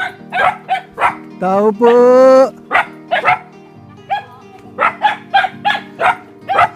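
Several dogs bark in quick, sharp bursts nearby, with one drawn-out howling yelp in between, while a person calls out briefly.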